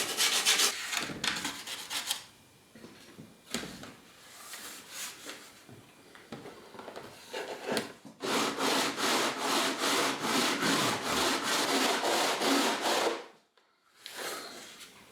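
Hand sanding of wooden guitar kerfing to bring it level with the sides, rhythmic rasping back-and-forth strokes up close, scattered at first and then a fast even run before stopping.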